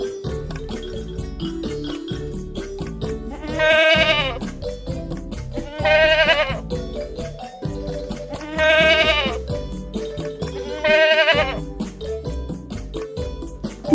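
Four loud bleats of a young goat, each about a second long and spaced evenly, standing out over a steady musical backing.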